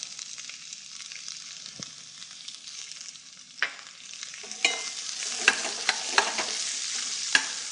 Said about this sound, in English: introduce some onions to this pan, and we're going to let those cook along with the meat until they're translucent